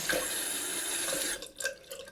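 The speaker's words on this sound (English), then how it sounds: "Put some water on the brush, just twirl it around till the soap starts foaming up" Water running from a tap onto a shaving brush, a steady close splashing flow that stops partway, followed by a few drips and a brief splash.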